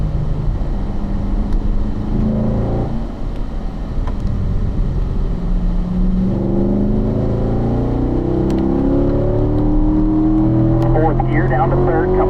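A race car engine accelerates and drops through the gears on a circuit, rising harmonic sweeps of revving climbing after a downshift, loud and continuous throughout.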